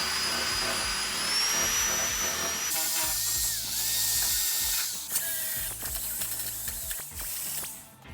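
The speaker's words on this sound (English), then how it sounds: "I'm going to use a wire wheel on the drill and remove this undercoating so I can see where they are." A wire wheel spun by a drill scours undercoating off the body of a 1980 Toyota pickup near the battery tray, making a continuous harsh, gritty whir with a high whine whose pitch drops and wavers as pressure changes.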